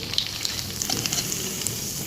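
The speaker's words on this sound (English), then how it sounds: "Now continue to fry till the required quantity of cutlets is done." Mixed vegetable sago cutlets frying in hot oil give a soft, steady sizzle with scattered small pops and crackles, close and fairly quiet.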